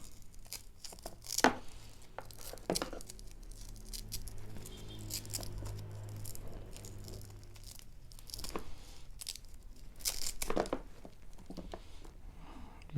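Tape being peeled and cardboard packaging opened on a Hyundai 710 impact drill set, with close, irregular crinkling, tearing and patter bursts over a steady low hum.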